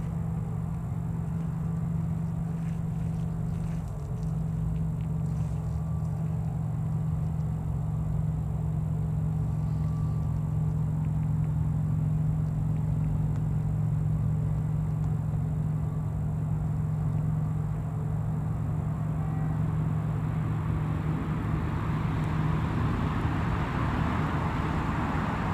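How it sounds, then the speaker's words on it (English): Aircraft engine starting up at Newcastle Airport, a steady low droning hum that holds throughout and builds into a broader, rougher roar toward the end, heard from a distance with no talking. "I can hear the engine starting up"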